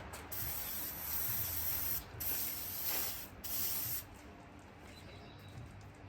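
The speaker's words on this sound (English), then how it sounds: "Now stand back, spray around." Several loud bursts of aerosol cleaner spray hissing close by onto a 305 Tuned Port Injection engine, each lasting about a second, separated by short pauses, with a quieter hiss trailing off at the end.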